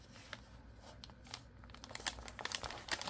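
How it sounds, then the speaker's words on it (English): Post-it note paper being folded by hand, with soft crinkles and crumpling rustles that come in uneven bursts and grow louder and denser toward the end, close and alone without talk. "If I fold it correctly, I can use the sticky back to hold the paper in place."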